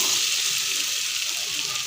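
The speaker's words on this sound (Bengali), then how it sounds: "আমি এখন আলু পটল পনিরগুলো যেগুলো ভেজে রেখেছি সেগুলো এখন সব" Fried potato, pointed gourd and paneer dropped into hot masala set off a loud, steady hissing sizzle up close that eases slightly as it continues, with no talking.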